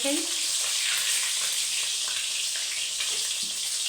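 An egg frying in hot oil in a pan makes a close, steady, bright sizzle that crackles continuously without letting up.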